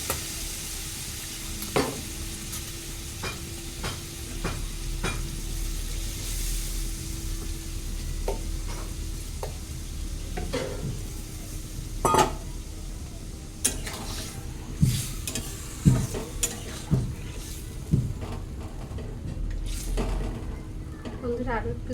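Soaked mango and its soaking water go into a sizzling fish curry in a pan, a steady frying hiss marked by scattered sharp clinks and scrapes of a spoon stirring, with a low hum underneath.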